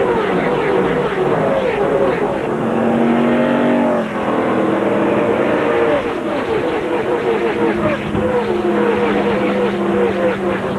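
NASCAR Nationwide Series race cars at Daytona roar past at full speed in the 2008 Camping World 300, a loud, continuous engine howl with rising and falling pitch as the pack streams by, a commentator's voice faintly underneath.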